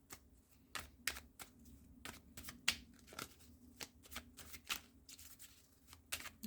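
Oracle cards are shuffled by hand in quick irregular bursts of crisp riffling and tapping, close and quiet with no speech.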